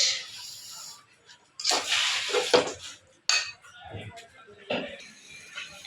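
Clanks and scrapes of a pot of okra and lentil dal being handled and lifted off a kitchen stove, several sharp metallic knocks between softer shuffling, with a faint hiss in the background.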